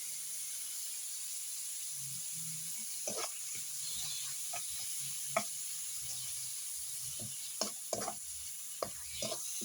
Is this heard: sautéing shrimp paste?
yes